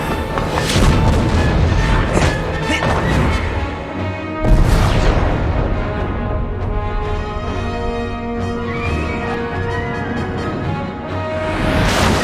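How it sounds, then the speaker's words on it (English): Rocket launcher explosions go off in Crisis Core: Final Fantasy VII Reunion: loud, heavy booms, with a sharp blast near the start and another about a third of the way in. Game music and effects ring on underneath. "Uh-oh, rocket launchers."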